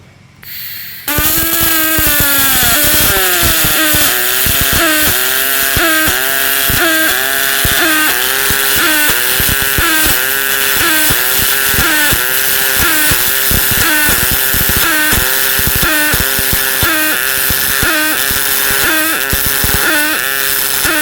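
MIG welding on 1/4-inch steel plate with an HTP Pro Pulse 300 in pulse mode, a loud, close, continuous buzzing arc with a rapid rhythmic pulsing pattern, starting abruptly after a brief quiet moment.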